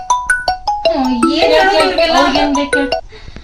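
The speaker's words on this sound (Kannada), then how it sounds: "ಇನ್ನೊಂದ್ ಫೋನ್ ಬಂತು" A phone ringtone plays a bright repeating melody, first as separate chimes, then as a fuller tune, loud and close.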